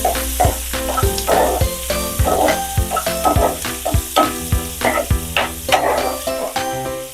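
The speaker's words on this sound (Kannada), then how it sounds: "ಉಳ್ಳಾಗಡ್ಡಿ ಸ್ವಲ್ಪ ಕಲರ್ ಚೇಂಜ್ ಆಗತ್ತನ ಫ್ರೈ ಮಾಡಬೇಕು" Chopped onions fry in oil, a loud close sizzle punctuated by rhythmic spatula scrapes and knocks against the pan roughly every half second.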